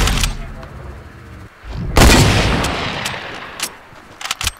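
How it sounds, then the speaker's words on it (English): Fortnite battle royale gunfire: sharp shots crack out, with one heavy blast in the middle followed by rumbling and a scatter of quick shots near the end. "who's shooting at me?"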